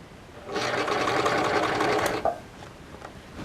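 A sewing machine runs a continuous stitching burst of close, loud, rapid mechanical chatter for under two seconds while sewing a separating zipper onto a jacket. Faint handling noises follow in the quiet afterward.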